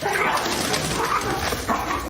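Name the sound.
dog barking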